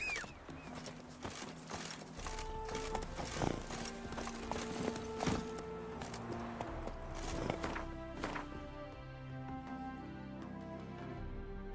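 Roach the horse galloping in The Witcher 3: Wild Hunt, rhythmic hoofbeats thudding beneath a sustained musical score.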